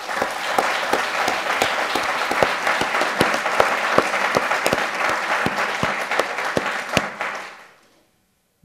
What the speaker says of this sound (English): I ask that you give them a round of applause.